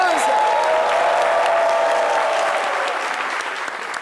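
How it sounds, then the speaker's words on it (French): Loud, sustained applause from a TV studio audience on a French midday show, a thick, continuous roar of clapping with a faint tonal sound under it early on, easing slightly toward the end. "On applaudit très fort pour Priscilla Dégameuse."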